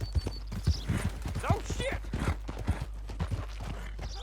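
Horse hooves clip-clop at a steady walking rhythm in Red Dead Redemption 2, close and distinct, with a brief exclaimed voice over the hoofbeats.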